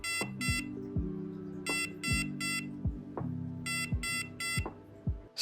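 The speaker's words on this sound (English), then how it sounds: "Here's a quick example of what the alarm sounds like if the temperature is not within the parameters" An aquarium temperature controller sounds its out-of-range alarm in repeated bursts of sharp, high electronic beeps, grouped in quick runs with short gaps between them, loud and close against a quiet room.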